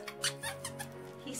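Squeaky dog toy from a Christmas stocking being squeezed repeatedly, a run of short, uneven high squeaks in quick succession at close range, with no speech.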